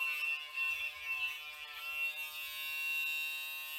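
A Braun 340S wet and dry electric shaver runs close by with a steady, high-pitched buzzing hum that wavers slightly throughout, heard alone without talk.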